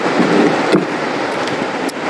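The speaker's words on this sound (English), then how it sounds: "So yeah, we got some decent wave action here." Small ocean waves wash onto the shore in a steady, loud rush, with wind buffeting the microphone and no voices.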